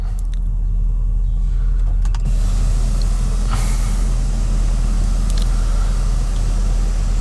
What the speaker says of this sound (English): I'll Open the panoramic roof